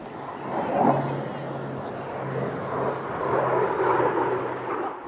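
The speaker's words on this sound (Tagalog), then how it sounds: "Magkasamang lumipad sa himpapawid ng Clark Air Base sa Pampanga ang F-16 multi-role fighter jet ng US Pacific Air Force at FA-50 fighter jet ng Philippine Air Force" F-16 multi-role fighter and Philippine Air Force FA-50 fighter jets flying over Clark Air Base in Pampanga, a steady broad engine roar at moderate distance with a low hum underneath, swelling slightly at times.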